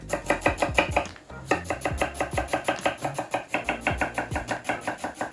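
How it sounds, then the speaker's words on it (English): A knife chops six onions into small cubes on a cutting board, a rapid steady run of sharp close taps with one brief pause, alone without talk. "While that's searing, I chop up 6 onions into small cubes."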